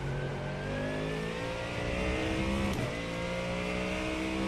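A GT3 race car engine in the iRacing sim racing game drones steadily and loudly throughout, its pitch climbing gradually as it revs, with a brief sharp shift-like blip partway through.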